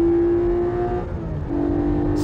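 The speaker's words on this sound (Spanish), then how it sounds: "entonces empiezo a acelerar." A car in a drifting run accelerates out of a turn, its engine holding a loud, steady droning tone that dips briefly and then builds again, with no talking.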